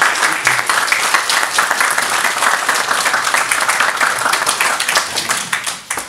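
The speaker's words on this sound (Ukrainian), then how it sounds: "І дружніми оплесками віддамо шану їх героїзму, бойовій витримці та відвазі." Audience applause at a ceremony honouring veterans of combat abroad: loud, dense, sustained clapping from a crowd, steady throughout before easing slightly at the end.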